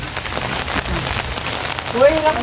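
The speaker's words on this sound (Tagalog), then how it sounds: "Caroline, kahit na ulan!" Rain falls steadily on a surface, with a voice briefly rising over it near the end.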